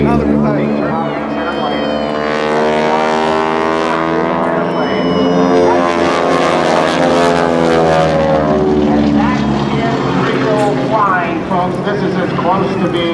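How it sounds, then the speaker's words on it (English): A Stearman biplane's radial propeller engine roars loud and close at an airshow, its pitch rising and falling as it passes, under a public-address announcer's voice. "We love our Stearman biplane."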